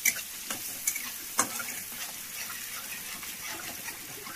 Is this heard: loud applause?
no